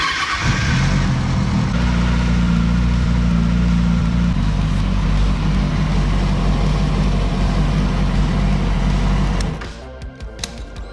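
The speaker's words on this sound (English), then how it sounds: "turn on the bike, ensure it is in neutralis, and then you just want to let it warm up" A 2007 Kawasaki ZX6R sport bike idles in neutral while warming up, a loud, steady, close engine drone that holds for about ten seconds before dropping off abruptly near the end.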